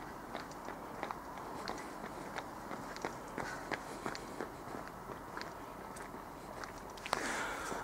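Footsteps of a person running on a cold, foggy night come as a steady series of soft, regular thuds, fairly close, with a louder scuff near the end.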